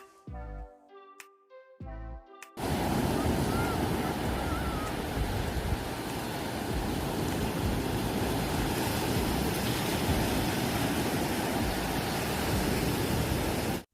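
Sea waves on the coast of Crete, Greece, roll in as a dense, continuous, loud roar that begins after a few seconds of soft piano notes and holds steady to the end.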